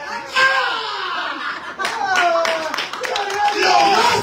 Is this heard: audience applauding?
yes